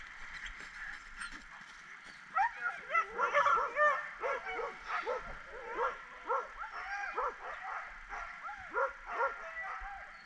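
Several sled dogs yip, whine and bark excitedly in overlapping bursts while another dog passes close by, the chorus rising and falling in short clustered calls.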